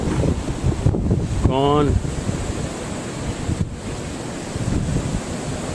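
Strong winter storm wind with snow still falling, sustained around 30 mph and gusting near 35, roars steadily and buffets the microphone throughout, with a brief spoken word and a short whistling tone partway through.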